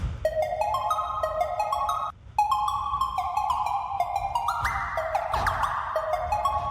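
Synth line in Logic Pro with a subtle portamento glide, pitch sliding up and down between octaves in a repeating pizzicato-string-like pattern, steady and close, with a brief dropout near the two-second mark and no talking.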